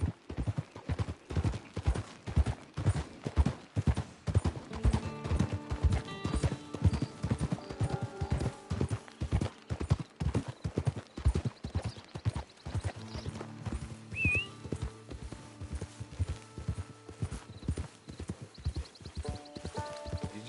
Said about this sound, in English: It's your horse.